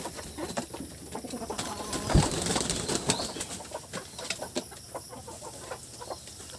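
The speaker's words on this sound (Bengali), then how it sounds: "মা মুরগি ছাড়ে দেব" Hen clucking after being let out of its coop at a village home, several short clucks and coos close by, alone with faint background rustle and a brief louder sound midway.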